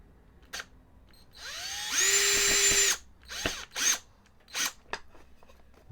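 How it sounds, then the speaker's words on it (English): A cordless drill fitted with a small bit drives screws into a homemade ukulele, starting with a rising whine, then a steady high-pitched run, followed by several short bursts with clicks between them. "We'll screw these in. I got kind of a smaller bit on here, which fits these really well."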